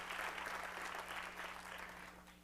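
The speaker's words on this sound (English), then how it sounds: "Give yourselves a round of applause just for being here," An audience at a policy conference applauds, a dense, steady wash of many hands clapping that holds evenly and then begins to thin slightly toward the end, heard from within a large hall.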